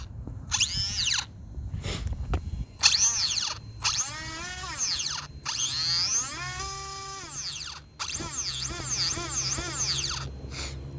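Stripped nylon spur gear on a WLToys brushless RC car, grinding and whining in repeated high rising-and-falling bursts separated by brief gaps, loud and close over a low rumble.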